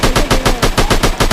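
Rapid automatic gunfire from a shooting video game sounds as a fast, even burst of about ten loud, punchy shots in just over a second.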